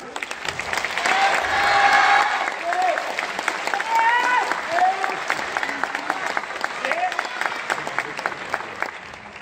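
Audience applause and rhythmic hand clapping fill a Japanese yosakoi dance performance at a New Year event in Sanuki, loud and sustained, with whistle-like tones and voices rising over the clapping.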